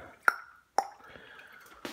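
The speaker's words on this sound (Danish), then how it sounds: "Nu drypper det af, sådan så alt det væske, der ligger herinde i al sukkermassen der" Sweet wort dripping from the grain bed off a false-bottom insert in a home brewing system, a few distinct, close drips landing in liquid with quiet gaps between them.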